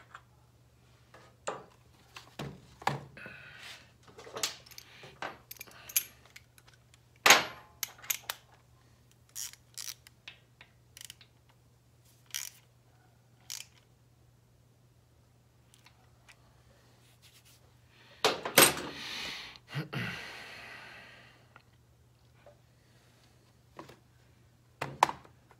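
Small tool clicks and scrapes while a screw is tightened on a Wassell ignition fitted to a Norton Commando 750, sparse metallic ticks spread across the quiet, with a brief rustling burst near the end.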